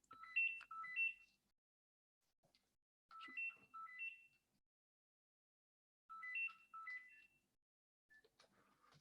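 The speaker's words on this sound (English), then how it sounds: "sorry, that's my phone going." A mobile phone ringtone plays three times, a short bright melodic phrase of electronic notes repeating every few seconds, soft and somewhat distant in an otherwise quiet space.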